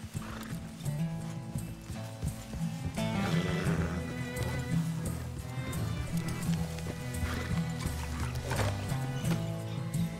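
Horses in Red Dead Redemption 2 at night, with clip-clop hooves and neighing whinnies over a busy game music and ambience bed, steady throughout.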